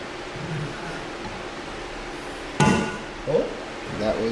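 A valve keeper on a forged M50 engine cylinder head breaks loose with a single sharp metallic snap, followed by a couple of faint clicks against steady background noise.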